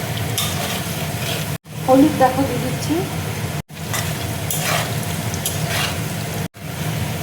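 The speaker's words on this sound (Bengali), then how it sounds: "এবার তেলের মধ্যে দেখো আমি আলুটা দিয়ে দিচ্ছি, আলুটা ভেজে নেব।" Potatoes frying in hot oil in a home kitchen, with a steady close sizzle and stirring clatter throughout while someone speaks over it.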